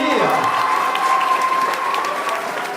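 Steady audience applause and cheering at a French cooking competition as a tied team of chefs is announced, a loud, continuous wash of clapping with a faint tonal hum running through it.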